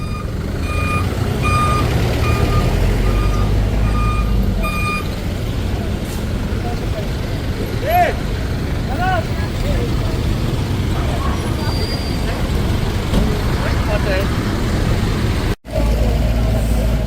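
Steady electronic reversing beeps pulse from a tow truck amid road traffic noise, fading partway through as engines rumble on.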